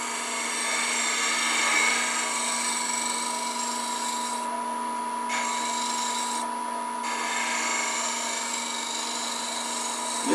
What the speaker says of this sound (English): this tool works really good for these tiny little coves where it might be difficult to get in otherwise